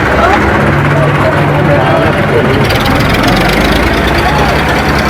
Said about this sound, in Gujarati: કિચડ સાફ કરવા માટે ટ્રેક્ટર આવી ગયું